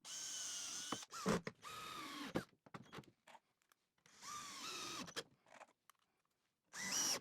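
A power drill whirs in several bursts of a second or so each, pre-drilling holes in wood, separated by short pauses and small clicks, close and fairly loud.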